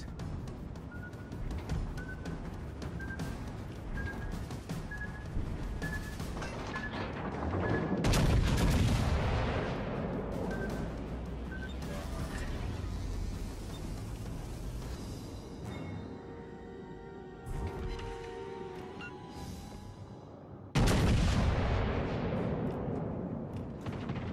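Naval guns fire repeatedly in World of Warships Legends, heavy booming salvos and crackling shots spread over a long stretch of battle, loud and close, with a particularly strong blast near the middle and another toward the end.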